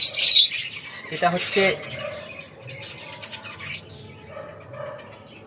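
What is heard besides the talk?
lovebird chirping in its cage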